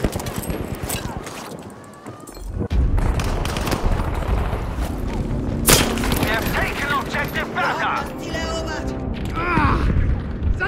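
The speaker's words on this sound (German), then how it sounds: "Hier, Granate!" A grenade explosion and gunfire in a Battlefield 5 Breakthrough battle in Rotterdam, a heavy boom followed by bursts of shots and chaotic combat noise, with voices calling out over it.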